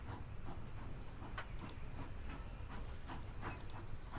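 Train idling at a station in the game The Lion's Song, with a low quiet rumble, scattered clicks and clacks, and brief high squeals and insect-like chirping over the top, with no voices present.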